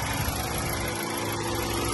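A 2021 Hyundai Santa Fe Calligraphy with a 2.5-litre turbocharged T-GDi engine and 4WD idles with the hood open, a steady, even hum with a low rumble and no variation in pace, heard close up with no talk.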